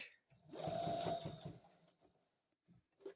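A sewing machine back stitching during free motion quilting on a table runner, running in a steady mechanical whir for about a second before stopping, with brief quieter clicks and handling noises after.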